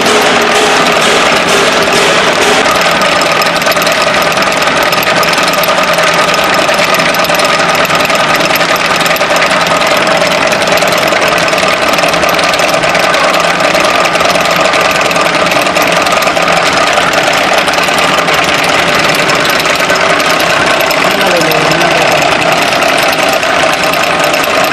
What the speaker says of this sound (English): You are seeing the 35 station double rotary machine in trial.